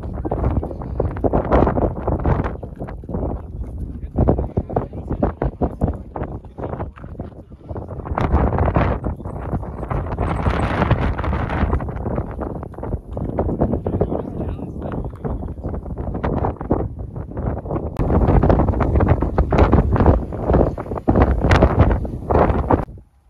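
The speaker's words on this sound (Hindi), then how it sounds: "ऊपर बहुत ही ज़्यादा हवा चल रही है" Strong gusting wind buffets the microphone atop Twin Peaks in San Francisco, roaring in long loud surges with brief lulls while a person speaks over it.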